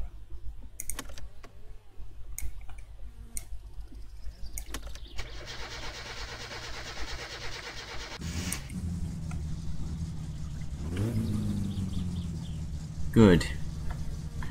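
A car engine in the video game My Summer Car cranks and starts, then settles into a low, steady idle, with keyboard typing clicks beforehand and a brief spoken word near the end.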